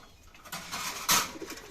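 Lahori pigeons at a bird market give soft cooing calls, with a louder burst about two thirds of the way through over a steady background hiss.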